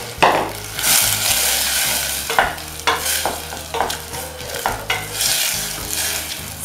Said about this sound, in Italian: Vado ad aggiungere il salmone che lascio rosolare un pochino